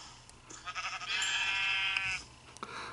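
A single sheep in the video game Minecraft bleats once, a clear, wavering baa lasting about a second, heard alone and fairly close.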